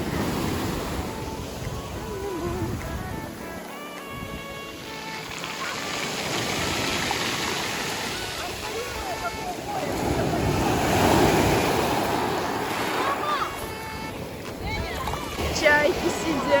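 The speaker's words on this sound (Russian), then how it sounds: "Море! Огромные волны!" Large sea waves roll and crash onto the shore in a steady wash of surf, with wind buffeting the microphone and excited voices speaking over the noise.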